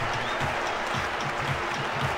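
A steady roar of crowd applause and cheering from a Kinect Sports volleyball video game, dense and continuous at an even level from start to finish.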